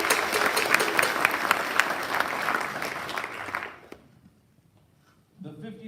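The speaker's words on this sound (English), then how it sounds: "Let's have another round of applause for all of our team nominees" Applause at a military wing quarterly awards ceremony for the team nominees, a dense, steady crowd clapping that cuts off abruptly, followed by a brief pause.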